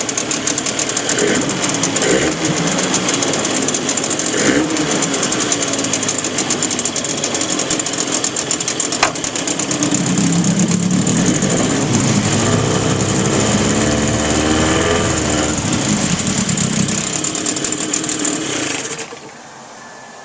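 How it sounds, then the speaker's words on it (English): A Suzuki 9.9 two-stroke outboard motor runs after a recoil starter repair, a loud buzzing, rattly idle that holds steady for most of the clip and then cuts off abruptly near the end. "Suzuki two-stroke outboard goodness."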